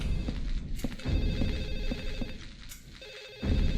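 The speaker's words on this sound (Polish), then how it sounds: "A może telefon, który dzwoni, to mój telefon?" An electronic telephone rings in repeated short trills over a low, busy background hum, fairly close and steady, in the video game Silent Hill 4: The Room.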